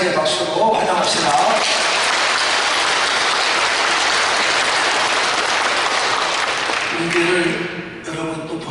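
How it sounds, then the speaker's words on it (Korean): A church congregation at a Thanksgiving service applauds to welcome new members, clapping briefly at the start, then a dense, loud burst of applause that fades near the end as talk resumes. "우리 심사위의 박수로 환영합시다."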